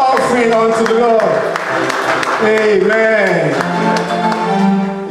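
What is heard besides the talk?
congregation clapping in church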